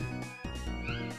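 A cat meows in a Pokemon video game, producing a short, clear, drawn-out meow that sits close and loud over steady game music.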